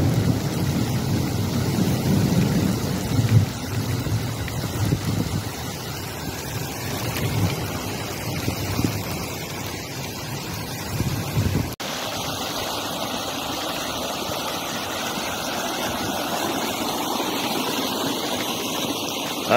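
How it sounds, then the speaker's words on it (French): Rushing torrent of storm water during a violent thunderstorm, a dense continuous roar of pouring water and rain that thins slightly partway through, with no voices. "Ah, c'est un véritable torrent"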